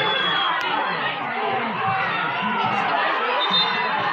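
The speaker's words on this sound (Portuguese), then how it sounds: "A torcida também não concorda com esse escanteio, hein?" Youth football crowd at an under-13 tournament final in Rancharia, São Paulo, protesting a corner kick: a steady roar of shouting and chatter, with children's voices raised and an announcer talking over it.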